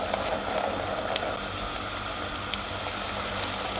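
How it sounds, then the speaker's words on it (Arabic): Sambousek pastries frying in hot oil, a soft continuous bubbling sizzle with a few faint pops, fairly quiet and steady. "هلا رح نقلي."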